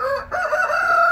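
A homestead rooster crows once near the garden gate, a loud, close, drawn-out call that rises and holds to the end.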